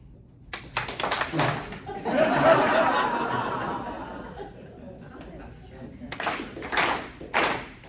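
A choir in rehearsal claps on the beat in short bursts of sharp group claps, with a stretch of chatter and laughter between them and a voice speaking throughout.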